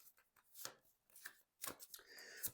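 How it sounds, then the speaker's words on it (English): Tarot cards shuffled off camera make a few quick, faint riffling and snapping bursts with short pauses between them, close by and soft. "I start shuffling cards off camera."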